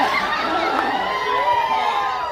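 An audience at a Naman folk theatre performance shouts and cheers together, a continuous, lively roar of many voices mixed with higher children's calls, close and full throughout.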